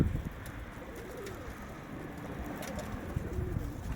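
Soft, low cooing of pigeons repeating close by, with faint rustling and background noise, no talking.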